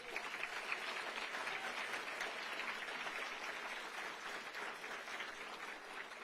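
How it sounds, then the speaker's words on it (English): At an annual governor's awards ceremony, an audience claps in a steady, even round of applause, moderately distant and unbroken throughout. "Once again, a nice round of applause"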